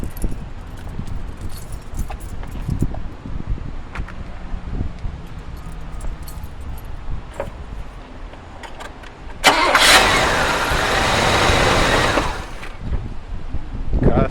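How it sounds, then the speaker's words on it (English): An Oldsmobile Cutlass Supreme, fitted with an upgraded battery-to-starter power wire, cranks and fires up midway with a loud burst, then runs and idles for a few seconds before easing off. Quiet handling noises and faint key jingles come first. "Let's start the car up."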